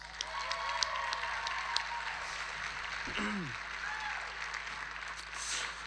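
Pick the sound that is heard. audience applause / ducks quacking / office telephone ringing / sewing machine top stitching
audience applause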